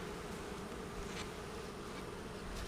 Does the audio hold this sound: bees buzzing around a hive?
yes